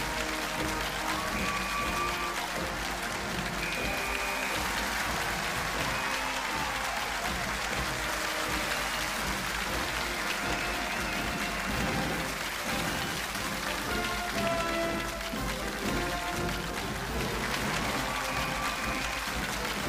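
Studio audience breaks into sustained applause to welcome a guest on a televised lecture show, a dense, steady clapping that fills the room at even loudness, with music-like tones over it.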